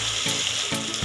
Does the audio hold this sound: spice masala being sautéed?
yes